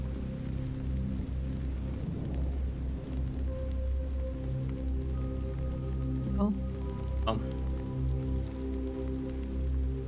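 Steady rain hiss in the video game Hollowbody, set in a British city, runs through the whole clip. A voice briefly exclaims partway through.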